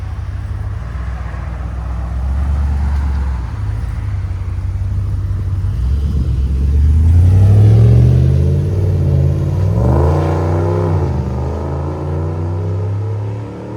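A 2022 RAM Power Wagon truck with a 6.4L HEMI V8 and an aftermarket exhaust idles with a deep, loud rumble, then revs up in a long rising swell and settles back down, heard close with no talking.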